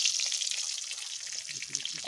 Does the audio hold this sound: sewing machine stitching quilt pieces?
no